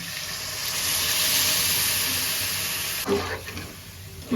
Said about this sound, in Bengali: ডালের গোশ কষানো হয়ে গেছে, আমি জল দিয়ে দিই।